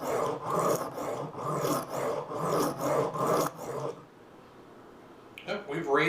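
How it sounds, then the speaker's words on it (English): A knife is sharpened on the coarse side of a stone in steady rhythmic rasping strokes, close and fairly loud, then it stops and a brief rub follows. "we're going to sharpen one side of the knife until we can feel a burr on the other side"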